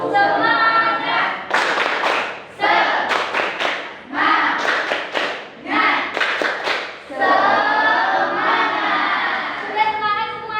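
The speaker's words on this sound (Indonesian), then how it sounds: "Tepuk semangat." A first-grade class claps a rhythmic group chant, bursts of sharp handclaps alternating with children's voices chanting together in cadence, loud and close, ending in a sustained shout.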